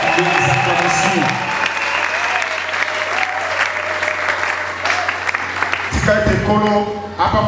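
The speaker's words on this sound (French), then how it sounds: "Des acclamations." A church congregation applauds and cheers loudly in a sustained burst of clapping and voices, then a speaker's voice cuts in near the end over the fading crowd.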